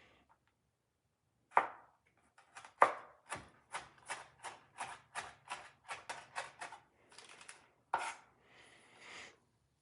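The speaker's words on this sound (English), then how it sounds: "So I'm gonna get the leeks and the shallots. Slice them, I guess." Leeks and shallots sliced with a knife on a cutting board for a cauliflower risotto, a quick run of about a dozen crisp, evenly spaced chops after a couple of sharper opening strikes, close and clear with no talking.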